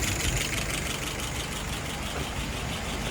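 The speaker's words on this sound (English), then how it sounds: "Right now it's idling at about 660." A car engine idles at about 660 rpm, a steady close rumble with a continuous mechanical texture and no voices.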